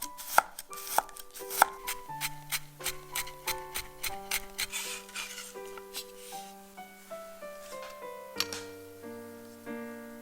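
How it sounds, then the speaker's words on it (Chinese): A knife chops two garlic cloves into mince on a board, giving steady quick knocks that run alongside soft background music. "把2瓣大蒜切成蒜末"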